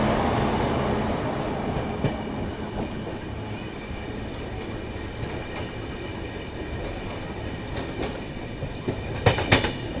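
The AP Express passenger train runs steadily on the Nagpur to Delhi route, with a continuous rumbling roll of wheels on track and occasional clacks and rattles heard from inside the coach.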